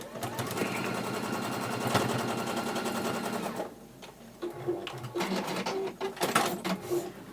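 A sewing machine stitches in a fast, rapid mechanical rattle for about three and a half seconds, then stops, leaving quieter clicks and handling noises.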